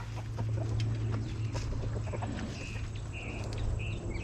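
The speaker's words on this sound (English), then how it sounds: "Chickens arguing over their real estate." Chickens cluck and squawk at each other nearby, with sharp bursts of squabbling over a steady low hum.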